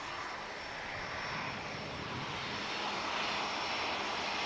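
A KLM jet departs Manchester Airport with a loud, steady, broadband engine roar that swells slightly over a few seconds, with no talk.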